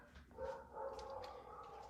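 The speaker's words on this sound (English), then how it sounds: "Sorry for the barking dog." A dog barks somewhere off to the side of a garage where a dusty 1967 Plymouth Fury III is being revived, giving a few muffled, moderately loud barks over a low room hum.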